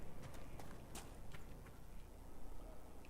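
Horse hooves clip-clop in Dragon Age Inquisition, a quiet, steady run of hoofbeats over a low background hum.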